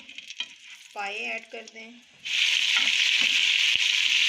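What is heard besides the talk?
spice masala frying in a pan for mutton paaye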